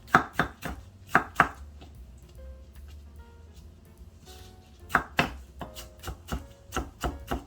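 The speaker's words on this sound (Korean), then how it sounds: "이거 양파를 이렇게 다져" A knife chops onion rapidly on a cutting board in quick bursts of sharp taps, with a short quieter pause in the middle before the chopping resumes.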